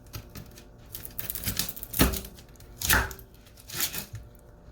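Knife chopping an onion on a cutting board while making a squash casserole: three distinct sharp chops spaced about a second apart, near and fairly loud, with quieter cutting taps between and no talk.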